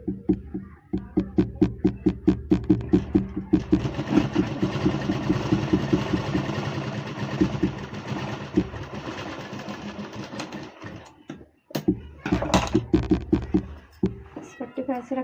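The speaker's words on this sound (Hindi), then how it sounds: "कपड़े को किनारे किनारे सिलाई चलानी है हमें।" A sewing machine stitches along the edge of suit fabric in fast rhythmic bursts at the start and end. A voice talks over the steadier middle stretch, and there is a short pause before the final run.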